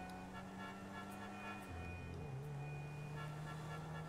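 A car horn sounding in GTA 5 Online, a sustained tone that shifts pitch partway through, over a constant background engine hum.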